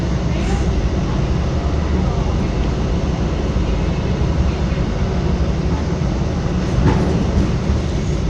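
Steady, loud rumble inside a moving Metra commuter train travelling from Ogilvie Transportation Center toward Waukegan, with continuous rail noise and faint clicks of wheels over track joints throughout.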